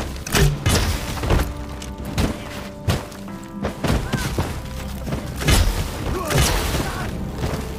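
Heavy booming explosions from rocket launchers in the tactical shooter Rainbow Six Siege, several deep blasts with crashing debris spread across the moment, loud, with players talking over the gunfire.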